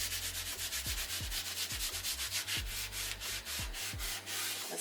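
Repeated rubbing strokes of a cloth or sponge wiping excess grout across a peel-and-stick vinyl tile floor, a steady rhythmic scrubbing close up under a low constant hum, no talking.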